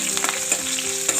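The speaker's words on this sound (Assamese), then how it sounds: "অলপ সময়ৰ কাৰণে ভাজিব লাগিব, অলপ ৰঙচুৱাকৈ।" Garlic, panch phoron and green chillies fry in hot oil, giving a steady close sizzle dotted with small pops and stirring sounds.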